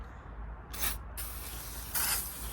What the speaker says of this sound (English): I'm gonna grab your WD-40